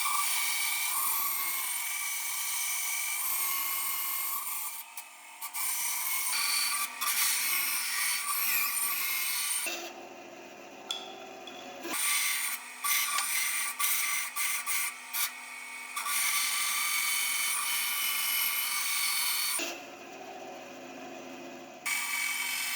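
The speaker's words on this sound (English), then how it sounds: "Fire up the bandsaw." A bandsaw rough-cutting handle shapes from dense exotic hardwood, a steady high whine of the running blade with repeated harsher cutting passes, some brief pauses and stops between cuts.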